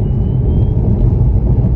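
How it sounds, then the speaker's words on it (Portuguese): A 2015 Tesla Model S 70D all-wheel-drive electric car accelerating along a straight road, a steady low rumble of road and motor noise filling the cabin at constant loudness, with no talk. "É impressionante a aceleração destes carros, malta."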